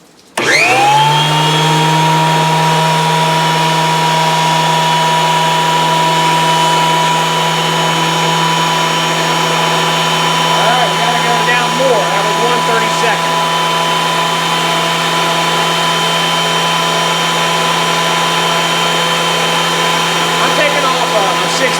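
A Wen 6-inch spiral cut jointer starts up and runs with a loud, steady motor whine and hum that hold constant for about twenty seconds, close by and dominant.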